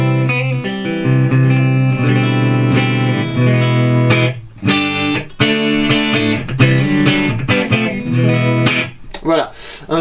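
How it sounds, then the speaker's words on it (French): Electric guitar played straight into a tube amplifier with reverb, delay and chorus switched off, a clean, warm, slightly driven tone; sustained chords and single notes ring out loud and close, with short pauses between phrases. "Donc là j'ai le son dry de mon ampli en fait."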